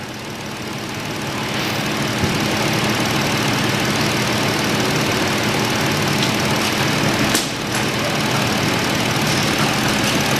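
A Ford Edge engine runs steadily at a loud, rough idle while the transmission is shifted through the gears, with a brief dip midway as gears are shifted.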